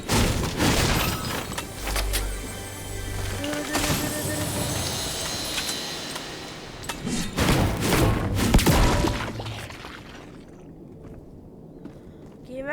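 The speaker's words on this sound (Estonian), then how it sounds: "Jah, ma kuulsin laskmist." Gunfire crackles in a Fortnite match, bursts of shots and thuds scattered through dense game noise, loudest around a few clustered moments, with a faint voice underneath.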